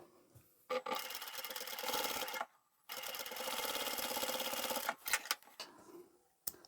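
A sewing machine stitches a small zippered fabric pouch in steady running bursts, with a longer run, a brief stop, another long run and then short stop-start stitches at the end, all close up with no talk.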